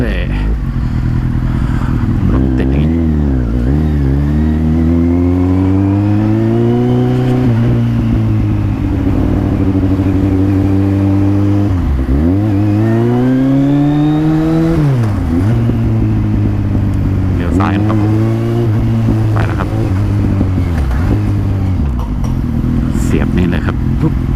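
Kawasaki Z800 motorcycle accelerating hard on the road, engine note rising and falling through repeated gear changes, loud and close with steady wind noise throughout.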